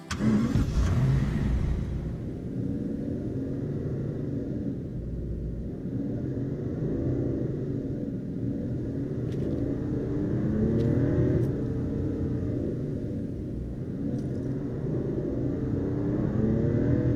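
A car engine in the video game Final Fantasy XV starts with a brief rev, then settles into a steady, loud rumbling drone of driving that holds for more than fifteen seconds.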